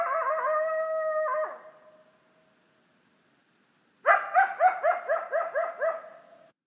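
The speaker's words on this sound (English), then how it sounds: "here's another version that's just almost pure barking" Recorded coyote vocalizations: a drawn-out howl-like call fades out, then after a pause comes a rapid run of roughly a dozen close, loud, rhythmic barks and yips.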